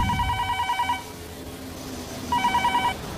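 An old-style telephone bell rings in two bursts, each about a second of rapid trilling, separated by a short pause, clear and fairly close in a quiet room without talk.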